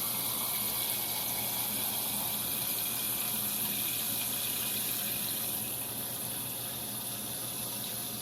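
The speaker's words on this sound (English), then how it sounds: "you place them in a saucepan and you fill that with cold water" Cold tap water gushes steadily into a saucepan holding sliced limes, a loud, unbroken hiss and splash that continues evenly throughout without any voices.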